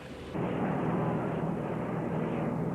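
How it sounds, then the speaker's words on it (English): A loud, sustained engine roar starts abruptly and holds steady, deep and rumbling: a vintage hydroplane racing boat powered by a World War II-era fighter plane piston engine passing nearby. "The roar comes from the old piston-powered engines made from World War II-era fighter planes."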